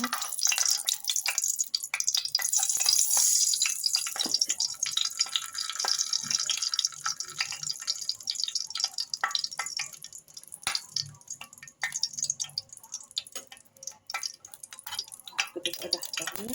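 Chicken liver fries in a very hot pan with dense, crackling sizzles and pops that carry on steadily, and a voice speaks intermittently over them.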